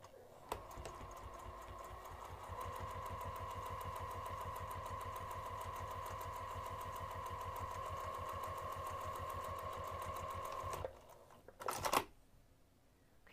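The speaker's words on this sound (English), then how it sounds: "we're going to take this back over to the sewing machine and we're going to top stitch this top edge" Sewing machine running a long top stitch along a top edge at a lengthened 3 mm stitch length, a steady close mechanical whir with rapid needle clatter for about ten seconds, then stopping with a short clunk.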